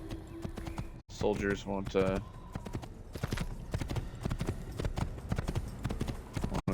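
A horse's hooves clip-clop steadily in Assassin's Creed as a rider moves at a slow pace, with a brief whinny near the start and the rhythm continuing to the end.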